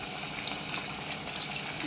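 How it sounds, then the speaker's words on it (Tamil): Water pours steadily into a cooking pot holding coriander, pepper and cumin for crab soup. It makes a continuous close gushing splash, alone and fairly loud for the short moment it runs. "தண்ணி ஊற்றலாம்"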